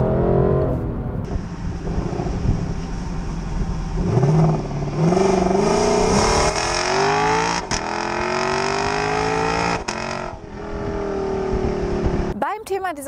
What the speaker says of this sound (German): während der Fahrt kommt immer mal wieder der V8 dazwischen